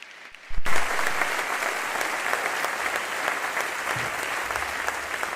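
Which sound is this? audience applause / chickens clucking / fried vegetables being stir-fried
audience applause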